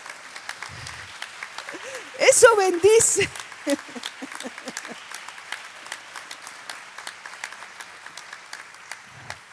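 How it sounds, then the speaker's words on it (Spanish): A church congregation applauds the Lord with faint, scattered clapping that runs steadily in the background, while a voice briefly speaks a short phrase over it. "¿No quieres darle un aplauso al Señor?"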